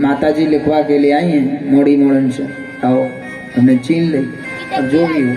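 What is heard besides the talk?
No everyday noise stands out behind the speech.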